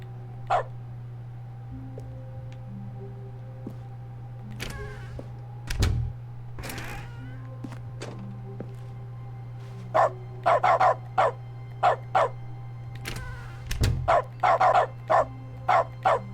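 Small cartoonish dog barks and yips from the Dog mode in The Stanley Parable: Ultra Deluxe, scattered at first and then coming in quick repeated bursts over a steady low hum.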